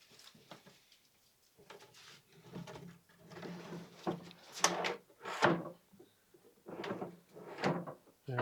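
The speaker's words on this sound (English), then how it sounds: "so slide the drawers in" Wooden drawers sliding into a miter saw cart in a workshop, a series of scraping slides and knocking thuds in irregular bursts, close but fairly quiet.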